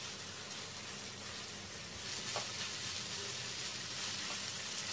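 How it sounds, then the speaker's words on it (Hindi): Tomato puree with red chili paste sautéing in oil in a pan, giving a soft, steady sizzle that runs evenly throughout and swells slightly partway through, with no talking. "तेल बाहर आए तब तक टोमेटो प्यूरी को सौते कर लेंगे।"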